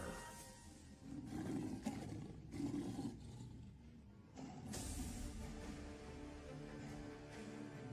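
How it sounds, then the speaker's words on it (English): A tiger roars in deep, rumbling bursts, at a moderate distance and fairly quiet, over a low background wash. "King of the jungle, the tiger."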